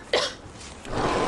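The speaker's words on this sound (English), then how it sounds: "that cough looks pretty bad" A single cough in a Robitussin honey cough syrup TV advert, one sharp close burst followed by a breathy rasp and rising background noise.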